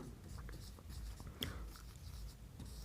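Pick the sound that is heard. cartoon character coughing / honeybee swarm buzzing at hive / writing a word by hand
writing a word by hand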